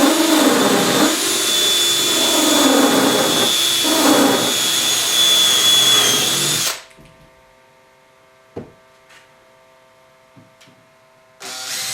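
A power drill runs steady and loud for several seconds, boring a pilot hole for an antler coat rack, then stops abruptly, leaving a quiet room with a couple of faint knocks before the motor briefly starts again.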